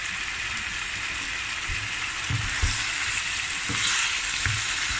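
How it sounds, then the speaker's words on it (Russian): Chicken with bell pepper and carrot is stir-fried for Thai curry, giving a steady quiet sizzle broken by several soft spatula scrapes and knocks against the pan. "Все хорошо перемешиваем и обжариваем."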